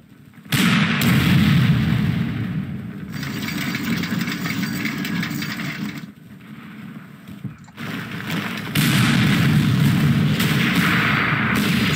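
Rumbling artillery barrages roll through a Panzer Corps battle scene, loud and sustained in broad booming bursts with a brief lull in the middle before heavy firing resumes.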